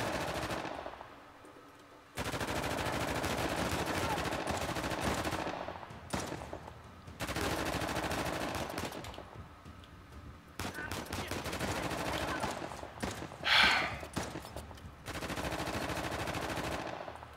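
Bursts of automatic gunfire from a firefight in Uncharted: The Lost Legacy, rapid machine-gun rattles in several long volleys separated by short pauses, one sharper spike near the middle, fairly loud throughout.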